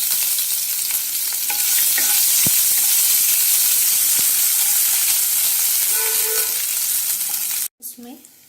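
Garlic, green chilli and ginger-garlic paste sizzling in a hot pan, a loud steady frying hiss with occasional stirring clinks, cut off abruptly near the end.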